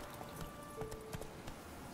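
A horse's hooves clip-clop in The Witcher 3, with a few quiet, spaced hoofbeats over faint game ambience.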